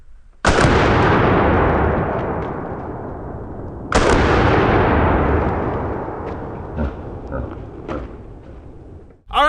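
A DP-12 double-barrel 12 gauge pump shotgun fired outdoors at a pineapple target, giving two loud, sharp blasts a few seconds apart, each followed by a long echoing decay.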